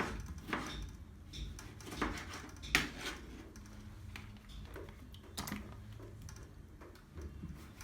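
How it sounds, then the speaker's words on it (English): A knife cutting tomatoes on a chopping board, giving a string of soft, irregular taps and knocks, close and fairly quiet, with no voices. "Cut all your tomatoes like that."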